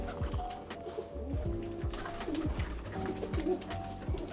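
Rampuri kalanj pigeons coo in a loft, soft repeated rolling calls overlapping close by against a steady background murmur of many birds.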